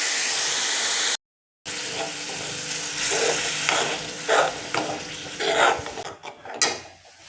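Green chilies and curry paste sautéing in a pan for a restaurant-style peas curry, giving a steady broadband sizzle with a brief dropout and occasional stirring scrapes, fairly close.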